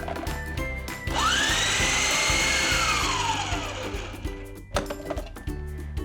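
A food chopper mincing cabbage finely for Manchurian gives a loud motor whine that spins up sharply, holds, then winds down, framed by rhythmic clunking pulses and a few sharp knocks.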